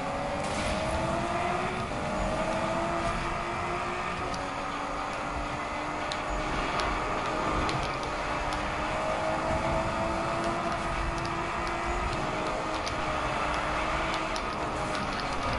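Race cars roar through a PS4 racing game, a continuous engine drone with shifting pitch sweeps as gears change and cars pass, steady and moderately loud, with no voices.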